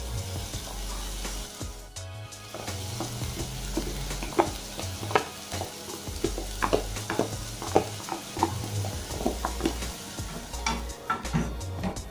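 Veggie mince sizzles steadily in a hot pan for a Jamaican-style cabbage and veggie mince dish, with frequent scraping and clacking stirring strokes over a constant close frying hiss.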